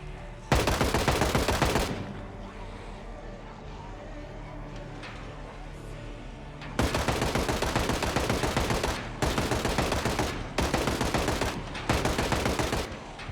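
Gunfire in Project Zomboid as a survivor shoots at zombies, with sharp rapid shots in loud bursts: one short volley, a quieter pause, then several repeated bursts close together.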